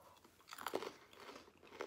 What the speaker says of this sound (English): Very crunchy and not sweet. It's savory.